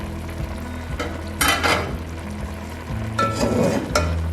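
Chicken chargha sizzling steadily in a pan as steamed fried chicken cooks, a loud continuous fry with scraping bursts from a utensil and occasional clinks against the pan, no talking.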